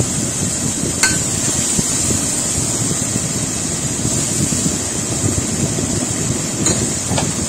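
A mixer grinder blends cooked chicken and lauki for a mild salan, giving a loud, steady whirring roar that holds unbroken from start to finish with no one talking.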